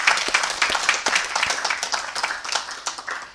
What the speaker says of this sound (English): So can we give a very hearty clap